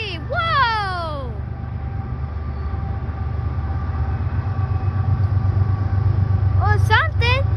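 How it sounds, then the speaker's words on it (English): Norfolk Southern freight train rumbling past steadily close by, rising in loudness over several seconds, with horn-like tonal sweeps near the start and end and people talking and exclaiming over it. "I wonder what the heck was that train? Oh man, it's our Norfolk Southern."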